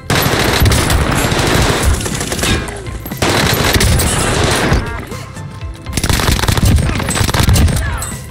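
Sustained machine gun bursts and rapid gunfire from a Warzone video game firefight, loud and close, in three long volleys separated by brief lulls, with no talking.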